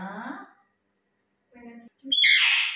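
A pet myna bird gives a bright, harsh burst of calling near the end, coming after a person's voice and short tonal chirps at close range indoors.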